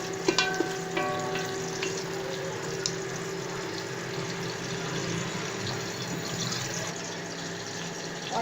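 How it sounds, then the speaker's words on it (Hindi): Onions frying in oil in a pan, a steady broad sizzle with light stirring scrapes, close and continuous, no talking. "ये प्याज ऐड कर दिया। प्याज को गोल्डन नहीं करना, सिर्फ इसका हल्का सा कच्चापन दूर करना है।"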